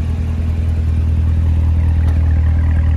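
A 2019 Corvette Z06 with the Z07 package idles from behind, its engine giving a deep, steady low chug that stays close and loud for a few seconds with no talk.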